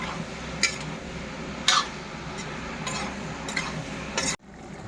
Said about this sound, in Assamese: দি ল'লোঁ আগতে চব্জিটো হিলাই দিছোঁ